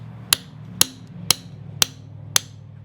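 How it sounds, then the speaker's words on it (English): Six sharp hammer strikes ring out at an even pace on a car engine's pilot bearing, each a bright metallic crack over a low steady hum. "I need a real hammer."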